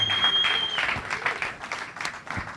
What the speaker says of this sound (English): Big round of applause for Montre Livingston, Mary Munoz, Yo Zank,